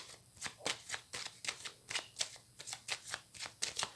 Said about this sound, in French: je vais faire une coupe avec le tirage que j'utilise pour les consultations plutôt prédictives